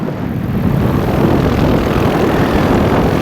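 A paramotor engine drones steadily in flight, cruising along beside a cloud. Its dense, close propeller roar runs continuously without any break.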